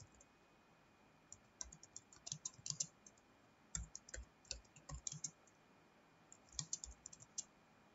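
Rapid typing on a computer keyboard while an HTML program is entered in Notepad, with irregular bursts of close, crisp key clicks separated by short pauses over a quiet background hum.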